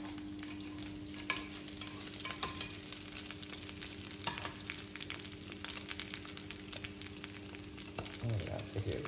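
An egg fries in a pan with a soft, steady sizzle and crackle, fairly quiet and close, with occasional stirring or scraping sounds and no talking.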